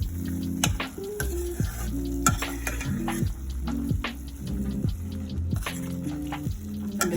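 Chili powder sizzles in hot oil in a pan for tomato chutney, a close, steady fry broken by regular scraping stirs.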